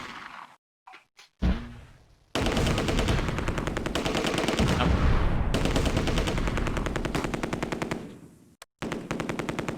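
Rapid machine-gun fire from the World War II strategy game Close Combat: A Bridge Too Far, a few sharp shots and then long loud sustained bursts, broken by a short pause before firing resumes.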